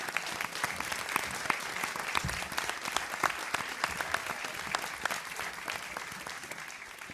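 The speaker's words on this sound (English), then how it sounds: "let's have another round of applause for our panel" Sustained applause from a town hall audience for a panel, steady scattered claps at moderate volume with no talking.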